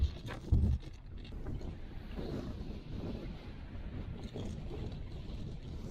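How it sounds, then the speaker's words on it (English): Strong, cold wind on a mountain top buffets the microphone as a constant loud low roar with gusty surges, and no voices are heard. "That wind is just cutting right through me."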